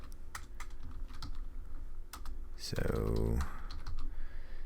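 Fingers tap out quick, irregular bursts on a computer keyboard, crisp clicks scattered over several seconds with a louder cluster near the end, while a person's voice speaks briefly over them.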